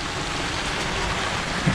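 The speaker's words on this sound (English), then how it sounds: "Heavy rain, squall just passing by." Heavy rain from a passing squall mid-Atlantic in a gale, a dense steady roar of downpour hitting a sailing boat, loud and unbroken throughout, with no voices.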